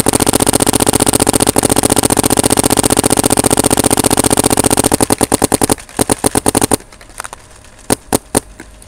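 A Planet Eclipse 170R paintball marker fires a loud rapid stream of shots, a dense machine-gun-like burst that slows into separate pops and then a few spaced final shots.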